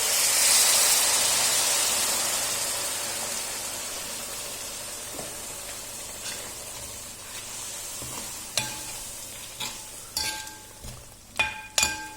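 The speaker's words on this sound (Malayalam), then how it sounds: "അപ്പോൾ നമുക്കതിലേക്ക് കുറച്ച് ചൂടുവെള്ളം ഒഴിക്കാം." Hot water poured into a sizzling crab curry in a pan: a loud hissing sizzle that slowly dies down, followed by a few sharp clinks and scrapes of a utensil near the end.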